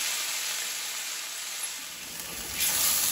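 Steaks sear in a hot pan with a loud, continuous broadband sizzle that holds steady close by and swells slightly toward the end, with no voices over it.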